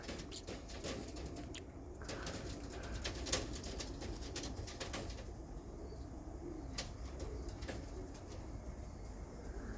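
Soft, low cooing of racing pigeons from the Netherlands amid scattered clicks and light rustling, fairly quiet and close, with no one speaking.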